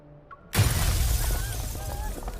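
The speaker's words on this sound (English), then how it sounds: "Glass from an upper floor of the building suddenly shatters and the crowd below is startled" Glass shatters from an upper floor of a building in the video game Love and Deepspace, a sudden loud crash that breaks out of near silence and rings on with scattered debris and crowd commotion.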